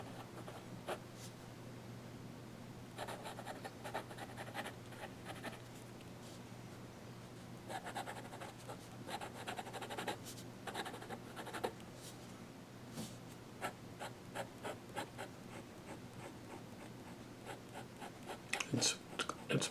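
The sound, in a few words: Kaweco Special fountain pen extra fine nib drawing on paper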